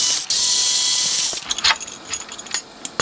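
A screwdriver ratchets and clicks while screws are backed out of a Sony Midi-HiFi system under repair, opening with a sustained loud whirring ratchet, then scattered sharp metallic clicks and small knocks up close.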